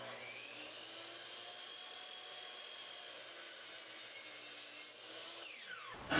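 A power saw runs while cutting wood for a wooden sailboat's splash guard, a steady high whine held for several seconds before spinning down, close and moderately loud with a sharp knock at the end.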